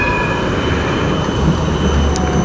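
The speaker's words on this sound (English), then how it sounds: "Most of the transportation will be by trams. They're electric powered and cross the city in many different routes." An electric city tram rolls along its tracks with a steady, loud rumble, thin high wheel squeals riding over the top and no voices.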